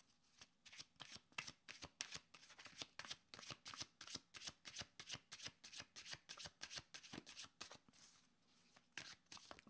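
Tarot cards shuffle briskly and steadily, a close run of rapid riffling flicks repeating in an even rhythm with no talking.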